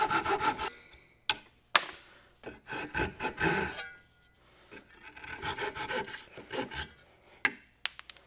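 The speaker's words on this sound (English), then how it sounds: "I feel like I've gotten a lot better with this pull saw." Pull saw cutting wooden dovetails by hand, with bursts of rasping back-and-forth strokes separated by short pauses and a few sharp knocks, close and fairly quiet with no talking.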